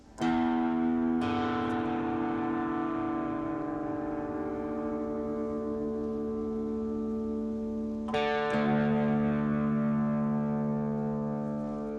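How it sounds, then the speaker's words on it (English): Two sustained guitar notes ring together, restruck a few times, one string being tuned down slowly bending downward in pitch until the pair settle into unison an octave apart. "We're going to tune this down to match it like this."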